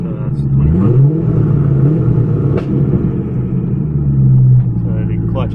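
A 2006 Corvette Z06 engine revs steadily around 3,000 rpm with the clutch out, a loud, close, continuous rumbling drone that rises and holds, with a brief voice heard faintly beneath it.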